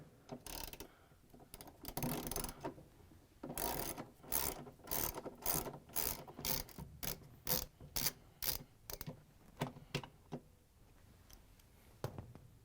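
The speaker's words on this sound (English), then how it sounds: "We're going to use a ratchet, 10mm socket, and a longer extension to reach in and take these off." A ratchet with a 10mm socket on a long extension backs bolts out of a Samsung washer's clutch assembly, giving quiet rhythmic bursts of rapid clicking with brief pauses and no talk.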